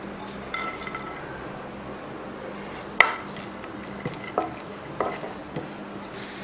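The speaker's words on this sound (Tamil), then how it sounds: "இப்போ இதை வறுத்துக்கலாம் நெய்யில்." Almonds, pistachios, cashews, raisins and dates roasting in ghee for payasam, a faint sizzle under scattered clinks and scrapes of a spoon stirring the pan, with no voices.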